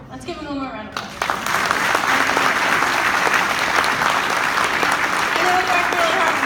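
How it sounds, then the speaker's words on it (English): An audience breaks into loud, sustained applause after a young man's speech, a dense wall of clapping building quickly and holding steady after a brief moment of talk at the start. "Let's give him one more round of applause."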